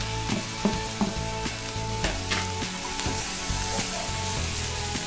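Onions added to capsicum and paneer frying in a pan for chilli paneer, a steady dense sizzle running throughout with occasional stirring knocks, close and fairly loud.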